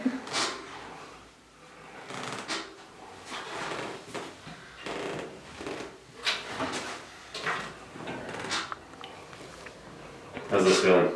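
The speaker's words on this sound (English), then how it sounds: "this is my squeaky table." Repeated creaks and squeaks from a squeaky chiropractic table shifting under a patient during a leg and back adjustment, irregular bursts up close, with people talking throughout.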